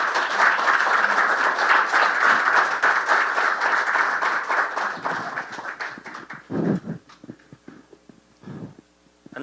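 An audience at a Korean history lecture in Gimhae breaks into loud, dense applause to welcome a foundation chairman as speaker, the clapping thinning into scattered claps and fading over the final seconds.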